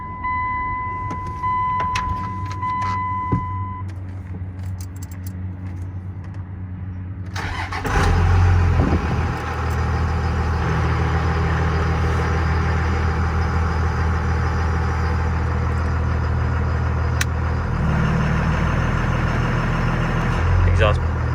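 A 2000 Dodge Ram 2500 Cummins turbo diesel with a six-speed manual cranks and fires, then settles into a loud, steady diesel idle close by, preceded by quieter cab noises and someone talking.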